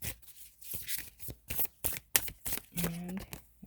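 Tarot cards being shuffled during a reading, soft papery riffles and slaps in short irregular bursts, close and fairly quiet with brief gaps between.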